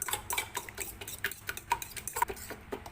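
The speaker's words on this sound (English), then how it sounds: "So I have mixed here this is the egg yolk and the condensed milk. We have to stir it until it becomes smooth." Egg yolk and condensed milk being stirred in a bowl for a steamed condensed milk cake, giving steady, closely spaced clinks and scrapes of a utensil against the bowl, near and alone.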